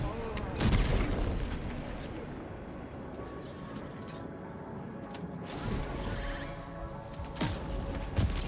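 Grenade blasts in Death Stranding 2, non-lethal shells that release tranquilizing gas, burst as heavy booms and crashes, a strong thud near the start and more towards the end, over continuous game noise with a voice briefly heard.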